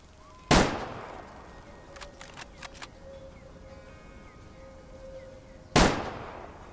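Two sharp, loud rifle shots crack a few seconds apart while hunting a bighorn sheep in the video game Way of the Hunter, each with a short decaying tail and a faint hum between them.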